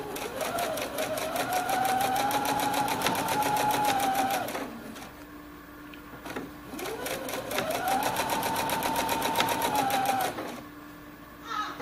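A sewing machine stitches a dart in two steady runs of about four seconds each, with a short pause between them, and slows toward the end of the seam. The whirring motor is close and clear, with no talk.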